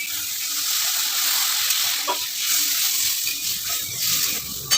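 Steady sizzling in a pan as water is slowly poured into frying poppy seed spice paste for an egg curry, with a faint crackle and occasional small clinks; no speech.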